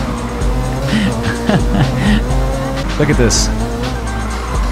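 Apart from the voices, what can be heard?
car skidding with tire squeal in NFS Heat video game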